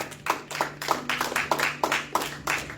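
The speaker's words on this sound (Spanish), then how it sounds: "Da un aplauso al Señor." A church congregation claps in a steady rhythm, about eight evenly spaced beats, fairly faint and slightly distant, with a low hum underneath.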